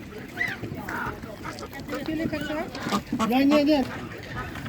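Ducks quack and honk in a few scattered calls close by at an animal market, mixed with a person talking over them.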